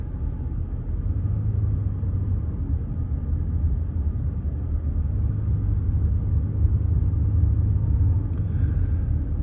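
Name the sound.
city traffic heard from inside a Las Vegas taxi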